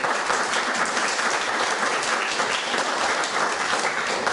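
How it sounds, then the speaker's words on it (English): A conference audience gives a sustained, even round of applause, dense and continuous from start to finish. "one more round of applause for the clients that came up with these great ideas."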